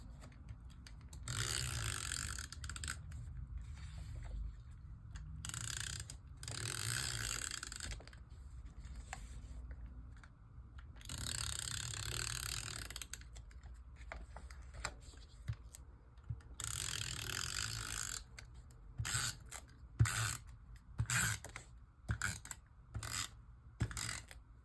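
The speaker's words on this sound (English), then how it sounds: "I am just going to use my little tape runner here." Tape runner laying adhesive tape in a journal, giving repeated close ratcheting, clicking rolls in short bursts with quiet gaps between them, ending in a quicker run of clicks and snaps.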